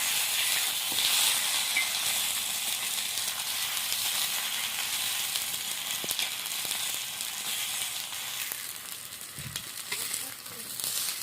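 Food frying in a little oil in a pan, a steady close sizzle and hiss that runs throughout with a few faint clicks and stirring noises.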